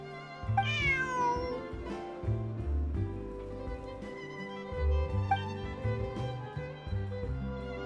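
A cat in Genshin Impact gives one clear rising-falling meow near the start, with softer mews later over steady game music.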